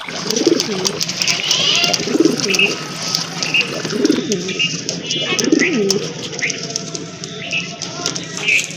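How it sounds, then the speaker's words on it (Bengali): Large Rajgolla and Madrasi golla pigeons coo in a steady series of soft, throaty rolling calls, one every couple of seconds, close by, with faint chirps and background noise between them. "দেশি কবুতর অরিজিনালি রাজগোল্লা কবুতর বুকসাদা কবুতর"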